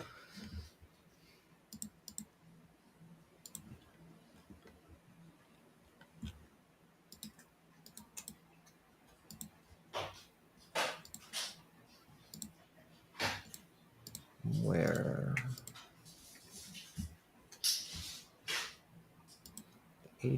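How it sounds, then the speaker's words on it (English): Scattered clicks and taps from a spare computer keyboard, brought out after a year unused, sound close and fairly faint in irregular bursts over about twenty seconds, with a brief louder rustle partway through. "I'm going to just fire up my extra keyboard"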